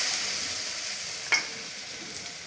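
Battered pumpkin flower fritters fry in hot oil with a steady, soft sizzle throughout, broken by one brief, sharper crackle partway through and a faint pop near the end.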